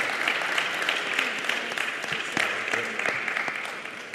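A conference audience applauds a panel at a health and wellness tourism event in Jamaica, dense steady clapping with sharp individual claps poking through, sustained throughout at moderate loudness.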